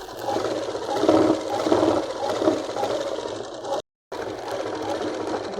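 A sewing machine runs a steady stitching seam down the center of palazzo pants, a continuous close mechanical whir that stops briefly near the end, then resumes.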